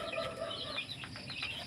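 Hens clucking close by in a backyard flock, soft repeated clucks and short calls with faint rustling, fairly quiet and without talk.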